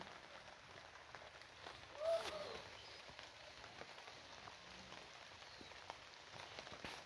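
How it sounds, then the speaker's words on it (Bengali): Rain falling over a garden with banana plants, a faint, steady patter at a distance with a brief louder swell partway through and no talking. "বৃষ্টি হইতেছে।"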